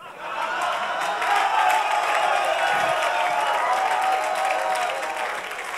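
Crowd at a rap battle bursts into sustained applause and cheering, loud and dense, swelling in and holding for several seconds before easing off.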